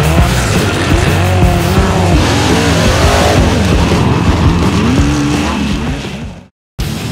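Rock bouncer off-road vehicles racing, engines revving loudly with rising and falling whines and tire squeals, dense and close throughout before a brief cut near the end.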